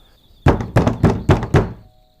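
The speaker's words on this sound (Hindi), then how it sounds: "कोई जानबूझकर दरवाजे को पीट रहा था" Five heavy, evenly spaced knocks land on a heavy wooden hall door, loud and close with a dull booming thud to each, set against faint quiet ambience before and after.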